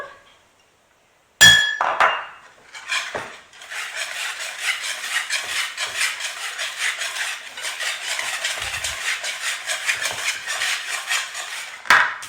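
Ghriba dough of semolina and coconut being mixed with lime and a pinch of salt, a steady run of scraping and clinking from a utensil against a bowl, close and continuous after a sharp start.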